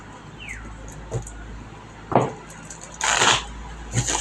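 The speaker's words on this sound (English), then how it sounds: "we're going to shuffle again. Watch carefully." A tarot card deck is shuffled by hand in a few separate riffling bursts, with one longer rustling flurry near the end and quiet pauses between them.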